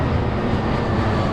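Airbus A319 airliner flying overhead near Denver International Airport, a steady broad roaring rumble with no breaks, fairly loud and alone with no voices.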